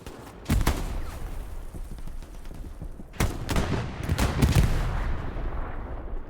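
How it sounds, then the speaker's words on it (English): A grenade going off during a Hell Let Loose-style multiplayer match, with sharp gunfire cracks and booming blasts over a dense battlefield rumble, several loud hits spaced across the stretch. "Duba lobs a grenade"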